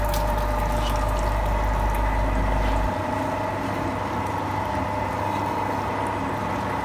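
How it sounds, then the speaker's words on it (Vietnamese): A Takyo TK 7 tabletop sugarcane juice press runs with a steady, smooth motor hum and liquid trickling, close and continuous, with a deep low drone that drops away partway through. "Bà con có thể nhìn thấy là máy ép rất là êm,"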